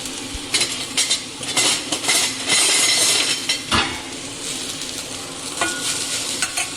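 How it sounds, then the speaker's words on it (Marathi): Pumpkin pieces stirred with a spoon in a pan with curry leaves, sizzling oil under repeated scraping strokes and metallic clinks, close and fairly loud. "ह्याला छान चमच्याने ढवळून"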